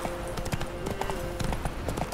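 Roach, Geralt's horse in The Witcher 3, clip-clops in a brief run of hoof steps over a steady game ambience, with a faint tonal hum running underneath.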